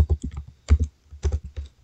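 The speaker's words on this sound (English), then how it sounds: "So I'm going to type in like this." Typing on a computer keyboard while writing a letter in a Microsoft Word document, heard as short bursts of close, crisp keystrokes in irregular clusters with brief pauses between, no voices.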